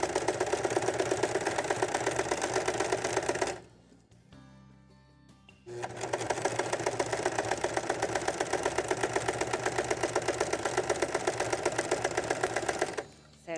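Sewing machine stitching a thermal bag, running steadily at close range with a fast regular needle rhythm, stopping briefly for a couple of seconds, then resuming for a long continuous run.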